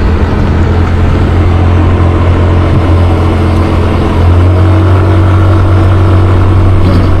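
A motorcycle on a touring road in Central Java, Indonesia, runs at full throttle, producing a loud, steady engine drone with constant wind rush throughout.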